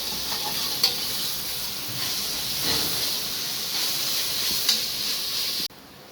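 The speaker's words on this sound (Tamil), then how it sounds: "புதினா ஒரு கைப்பிடி, மல்லி ஒரு கைப்பிடি. இது நல்லா வதங்கணும்." A handful each of mint and coriander leaves sauté in a hot pan with a continuous bright sizzle and hiss, a few stirring scrapes, cutting off abruptly at the end.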